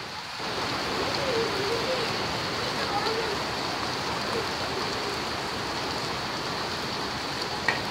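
Steady rain hissing down on a surface, continuous and fairly loud throughout, with faint voices buried underneath.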